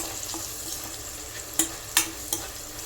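Salted food sizzles in a pan under steady stirring, a continuous soft frying hiss broken by three sharp scrapes or clinks of the spoon against the pan toward the end.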